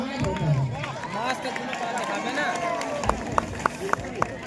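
At a kabaddi final, a crowd breaks into scattered sharp claps near the end, over a busy background of people talking and moving.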